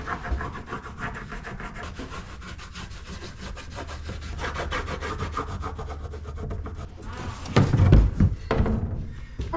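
A hand saw cuts small notches off timber for a wooden boat, with steady rhythmic rasping strokes up close that grow heavier near the end, broken by a few knocks.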